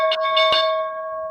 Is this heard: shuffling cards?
no